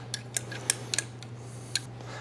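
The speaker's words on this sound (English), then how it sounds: "Next, you're just gonna wanna give this a stir to combine." A batch of tequila old fashioned is stirred, giving a handful of sharp, irregular clinks and ticks of metal against glass over a faint steady hum, close and without voices.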